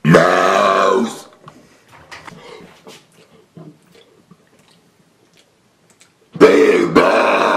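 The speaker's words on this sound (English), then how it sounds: "And now, how about I burp some words?" A person deliberately burps, with a long loud belch at the start and another forceful one near the end, separated by several seconds of quiet broken by faint scattered noises.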